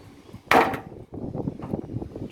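A single sharp wooden whack rings out near and loud as a piece of wood is struck against a VW bus engine deck lid, followed by steady wind-blown rustling and low outdoor noise.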